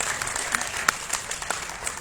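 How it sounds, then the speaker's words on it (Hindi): An audience claps for a judge at a students' elocution contest during a religious festival gathering, with brisk, steady applause and a few sharper individual claps standing out. "उनके लिए भी जोरदार तालियां हो जाएं"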